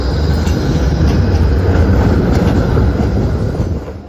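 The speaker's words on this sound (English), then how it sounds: "Trams, of course." A tram rolls past on rails in Wellington with a loud, continuous rumble and rail noise that fades slightly at the end.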